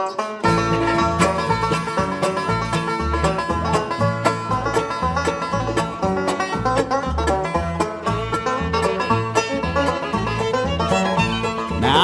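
Bright, rapid banjo picking with a steady rolling rhythm, played up close with a bass-heavy accompaniment beneath it and no voices.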